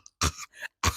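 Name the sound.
person imitating a cough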